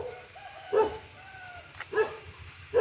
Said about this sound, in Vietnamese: Ở bên đây cũng có mấy chú chó nè,